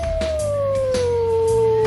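A jackal lets out a single long howl in an animated fable, a clear sustained tone that slides slowly downward over about two seconds, prominent and close.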